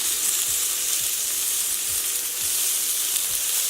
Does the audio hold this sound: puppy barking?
no